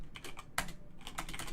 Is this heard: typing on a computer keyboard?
yes